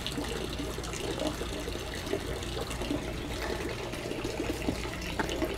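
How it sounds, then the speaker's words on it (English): Catalyst poured into polyester fiberglass resin, a steady close liquid stream running without a break and no talk. "I'm going to go ahead and pour my catalyst in"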